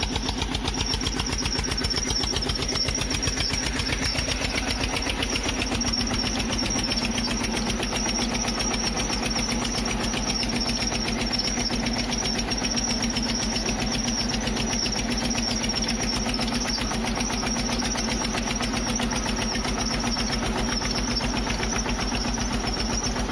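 A farm tractor engine runs at a steady idle, a loud, continuous droning rumble with an even pulse that holds unchanged throughout, with no voices.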